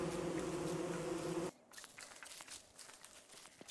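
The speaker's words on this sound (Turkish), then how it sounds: "Arılar kovalıyor sizi" A thick swarm of bees buzzes loudly while chasing players in Don't Starve Together, then cuts off abruptly halfway through, leaving faint rustling and light footsteps.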